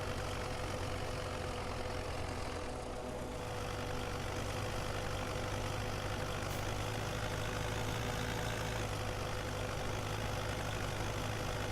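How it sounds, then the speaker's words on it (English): A tractor in Farming Simulator 17 idles, a steady dense engine drone with a low rumbling throb that holds constant throughout with no voices. "It does have a nice sound though, I will say that about this tractor."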